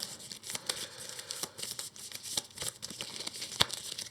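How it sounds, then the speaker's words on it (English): Game cards from Earthborne Rangers are shuffled by hand at close range, a run of quick papery riffles and crisp flicks with no talking. "I'll just shuffle this."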